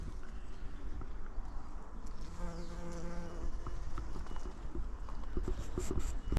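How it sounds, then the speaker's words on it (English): A big bumblebee buzzes in a garden, a faint steady hum drifting under soft outdoor background noise with a few light knocks. "Ah, a big bumblebee too."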